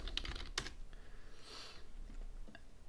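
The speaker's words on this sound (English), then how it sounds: "Say I go to Google and I type in metabolic cooking." Computer keyboard typing as someone enters a search query, a quick run of light, close clicky keystrokes in an irregular rhythm with a few brief pauses, with no talking.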